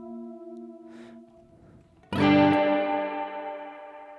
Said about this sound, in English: So now you have this modulation on the reverb trail, not on the original signal